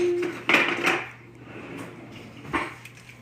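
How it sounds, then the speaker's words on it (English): A spoon stirs diced yellow onion in oil in a pot, with a couple of sharp metallic clinks and scrapes against the pot and quieter scraping between them. "let me get a spoon and stir it around in our oil"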